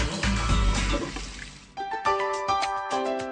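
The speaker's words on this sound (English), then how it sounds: "Strong Kangen water will be discharged from the flexible pipe, and strong acidic water will be discharged from the secondary pipe." Water gushing from the flexible pipe of a Kangen Leveluk K8 water ionizer machine, a steady close stream that cuts off, followed by a short run of bright electronic beeps from the unit.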